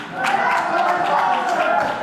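A crowd in Batley claps and cheers through a UK wrestling tag team triple threat match at Revolutionary Road, a steady, fairly loud wash of applause with scattered sharp claps throughout.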